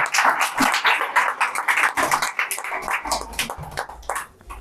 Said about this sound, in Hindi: और इसके लिए एक ताली, खूब जोर वाली ताली लगाइए भाई